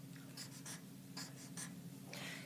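Someone writes numbers by hand, and a pen or marker makes several short scratchy strokes in quick bursts, close and quiet, over a low steady hum.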